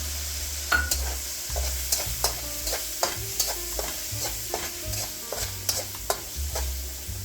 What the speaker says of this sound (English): You can hear the sizzle's cooled. That means the pan has cooled down.